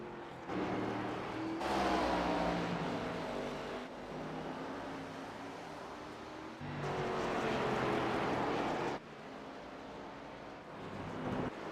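ARCA Series race cars lap the Charlotte Roval road course at night, engines swelling loud as cars pass close in bursts, with a steady engine drone between passes and a pair running nose to tail.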